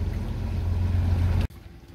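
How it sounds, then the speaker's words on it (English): A commercial squid fishing boat's engine droning steadily nearby at sea, a low continuous rumble with wind and water noise that cuts out abruptly near the end. "squid boat, commercial."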